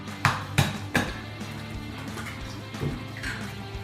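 An egg cracked into a separate bowl in a home kitchen while making meatballs: a few sharp taps on the rim, then softer clinks and a faint wet drop, close and clear with no talking.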